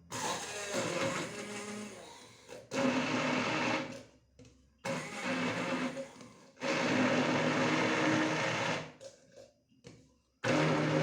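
A kitchen blender pureeing soaked fruit into jam with a little water, loud whirring motor bursts in several pulses of a few seconds each, separated by short pauses.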